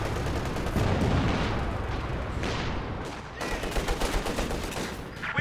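Anti-tank guns fire in the video game Company of Heroes 2, a dense rolling barrage of booms and crackling gunfire at moderate distance, with some heavier thumps toward the end.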